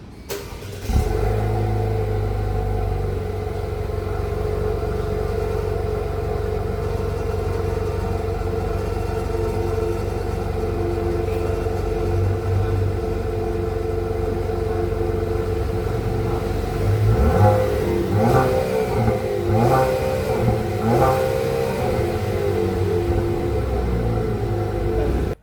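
A Chevrolet Camaro RS Turbo heard from outside as it starts with a sharp burst, settles into a steady idle, then gives several quick revs near the end, loud and close with no talk.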